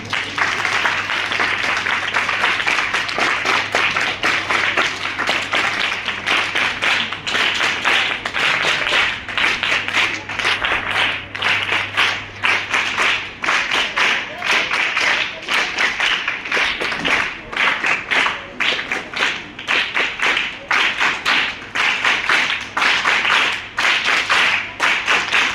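An audience at a child-protection and POCSO awareness event at an ashram school in Gadat gives sustained applause to welcome two police constables, steady dense clapping filling the room throughout with a faint background hum.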